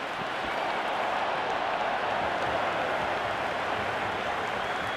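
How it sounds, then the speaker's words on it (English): A stadium crowd in the Cricket 26 video game applauds and roars in one dense, unbroken wash of clapping and cheering, loud and steady throughout. "The crowd is electric right now."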